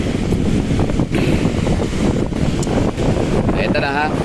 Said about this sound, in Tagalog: ganda ng ihip ng hangin kasi malalakas yung alon